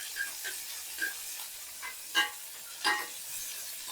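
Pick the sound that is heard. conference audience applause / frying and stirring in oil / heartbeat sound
frying and stirring in oil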